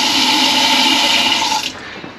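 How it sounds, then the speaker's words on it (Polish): A tap is turned on so household water rushes steadily and loudly at close range, a continuous hiss that cuts off near the end. "włączę wodę, żeby mu zaczęła pracować pompa."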